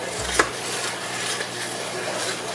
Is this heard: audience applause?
no